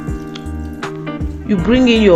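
Meat stock is poured into a pot of afang soup, giving soft liquid splashes and drips under a talking voice, growing louder toward the end.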